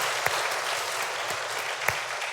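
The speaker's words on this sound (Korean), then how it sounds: "격려의 박수 한번 드리겠습니다." A church congregation gives a short round of applause for the choir and orchestra, a steady soft patter of many hands clapping from a moderate distance, with no talk.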